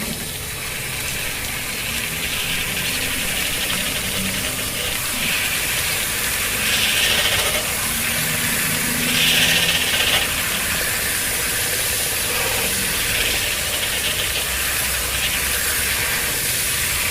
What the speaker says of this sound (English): So I put that in there like that, spins the roller, and the paint comes out.